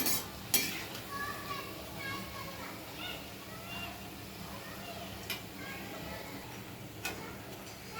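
Cabbage bhaji fritters fry in hot oil in a pan, giving a steady close sizzle with occasional scraping stirs and a few sharp metallic clinks from the utensil.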